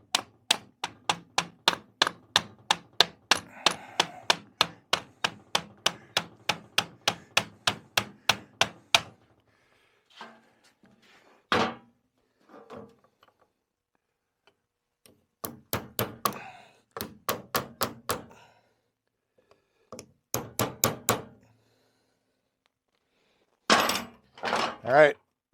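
Hammer tapping during a Polaris Indy snowmobile rebuild: a long run of rapid, even, sharp taps, then pauses broken by short clusters of quicker taps, close and loud with brief talking between.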